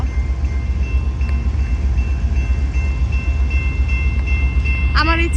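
A large train rolls past close by in a park in America, a loud, steady low rumble with faint ringing tones above, ending in a short shrill squeal or whistle.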